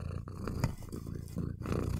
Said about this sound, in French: Tu ronronnes dans le micro